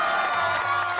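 Audience applause fills a theatre as a dense, even wash of clapping with some cheering, lasting about a second and with no speech over it.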